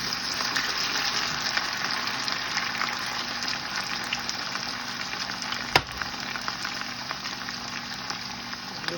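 Potatoes for tortilla española frying in a pan give a steady, close hissing sizzle, occasionally stirred, with one brief sharp clink partway through.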